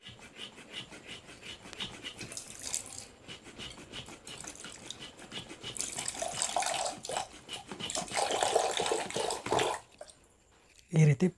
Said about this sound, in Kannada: ಈ ರೀತಿ ಪ್ರೆಸ್ ಮಾಡಿದರೆ ನೀರು ಬರುತ್ತೆ